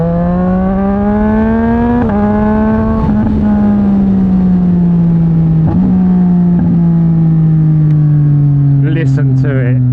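Yamaha MT-09 motorcycle fitted with a Mivv X-M50 exhaust revs and holds a loud, steady engine note close by, easing lower over ten seconds with brief blips, and a voice briefly at the end.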